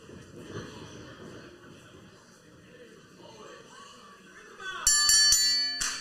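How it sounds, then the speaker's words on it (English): A ring bell clangs to open the third match of the evening at a lucha libre wrestling show, several sharp bright strikes ringing out loudly at the end over crowd and arena noise. "The bell sounds, and we are underway in our third match of the evening here"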